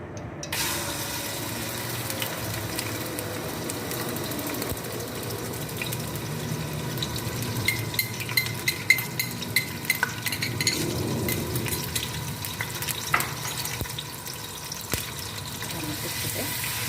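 Garlic ginger paste dropped into hot oil, a steady crackling sizzle with stirring clatter and bursts of spitting, moderately loud and continuous.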